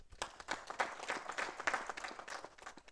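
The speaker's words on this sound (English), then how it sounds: "Please give them a round of applause." At a ministerial town hall in Mansa Kunda, an audience gives a short round of applause, individual claps standing out in an uneven, fairly quiet ripple that rises and falls over a few seconds.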